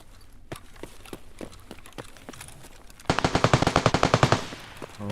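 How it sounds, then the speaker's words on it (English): Gunfire crackles in Escape from Tarkov: scattered distant single shots first, then a loud close burst of rapid automatic fire lasting about a second and a half. "A lot of shooting."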